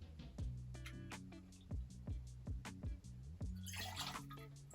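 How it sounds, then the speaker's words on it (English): Triple sec orange liqueur is poured into a cocktail of lime juice and vodka, a quick run of glugging, dripping liquid pulses with a brief splashy burst near the end, close and alone. "Next, we're gonna add 3/4 of an ounce of orange liqueur."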